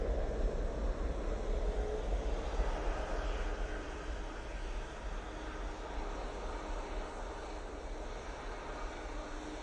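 Air Tanker aircraft at Manchester Airport, a steady broadband jet roar holding at moderate distance throughout with no talk.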